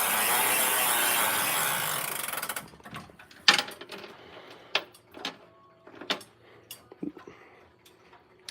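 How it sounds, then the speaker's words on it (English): A clock's ratchet and pawl clicks while the clock is wound, with a steady whirring rush at first, then sharp, irregular ticks and clicks close by in a quiet room. "I'm really sad that the ratchet failed. Because it sounds really pretty in my opinion."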